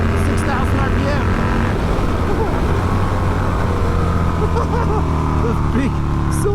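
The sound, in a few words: V-twin motorcycle engine revving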